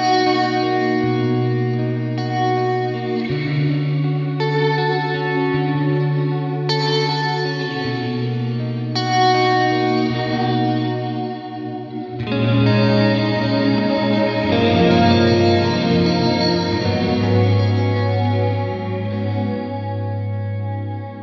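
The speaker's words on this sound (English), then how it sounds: "it adds this kind of a subtle, gentle chorusing to it" Clean electric guitar chords through a Fender Reflecting Pool delay and reverb pedal ring out with a wobbly, detuned chorus shimmer and spacious echoing reverb trailing each strum.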